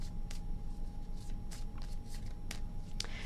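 Tarot cards shuffled by hand in a few quick riffling bursts, close and crisp against a low steady background hum, with no talking.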